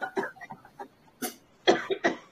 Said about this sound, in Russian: Немножечко, наверное, хочется откашляться, да?